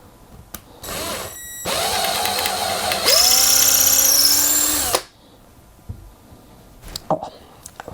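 A power drill bores a screw hole in a bass guitar kit body, whirring up in two close bursts that rise in pitch before cutting off, with quiet handling clicks around them.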